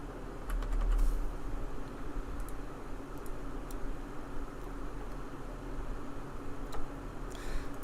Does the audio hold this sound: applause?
no